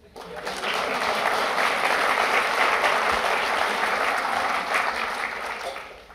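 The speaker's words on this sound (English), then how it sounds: "let's give Kelsey a big warm applause" Conference audience gives a warm, full round of applause welcoming a speaker, dense and steady for several seconds before tapering off.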